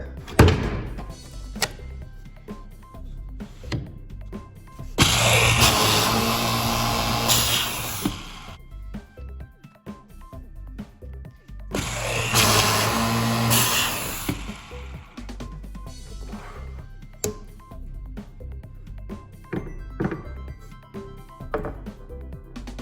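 Two sustained bursts of a drilling machine boring hinge holes in wooden bathroom vanity cabinet doors, each a few seconds long, separated by clunks and knocks of handling wood and moving parts.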